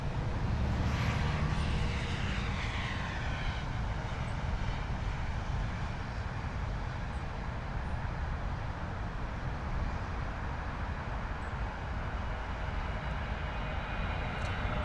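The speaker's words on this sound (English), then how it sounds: "United Airlines Boeing 777 coming in from Miami." A United Airlines Boeing 777 arriving from Miami lands at London Heathrow, its engines giving a loud, steady roar and broadband rumble that holds throughout, with a faint higher whine near the start.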